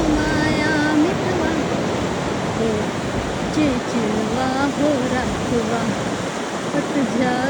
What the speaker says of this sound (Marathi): हा बीच, हा तळ्याचा पाणी आणि हा आहे समुद्र जे एकदम एकत्र आलेला आहे.